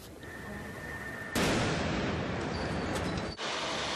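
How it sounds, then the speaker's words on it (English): A single sharp, loud blast from a bomb detonating as a bomb squad robot tried to disarm it erupts after background noise, followed by a rumbling broadband roar that lingers and slowly decays, heard from a distance. "One of those devices exploded while the bomb squad robot was trying to disarm it"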